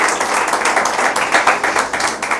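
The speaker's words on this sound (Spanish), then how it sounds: "Dele un aplauso al Señor." A church congregation claps together in steady rhythmic bursts, loud and close, filling the space with continuous hand-clapping and no voices over it.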